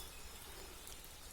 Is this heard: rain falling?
yes